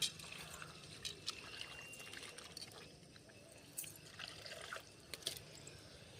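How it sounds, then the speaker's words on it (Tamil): Water splashing and dripping as mint and coriander leaves are rinsed by hand, with soft irregular drips and a few sharper splashes close by. "புதினாவும் மல்லித்தலையும் கழுவி சேர்த்துக்கிறோம்"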